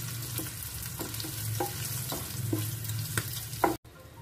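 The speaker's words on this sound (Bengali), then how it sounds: "গুঁড়ো মশলাগুলো লঙ্কার সঙ্গে দিয়ে ভালো করে মিক্স করে নিলাম।" Green chillies fry with ground spices in hot oil, a steady sizzle broken by about ten regular scraping stirs of a spatula against the pan, close and fairly quiet, with no voices, cutting off abruptly near the end.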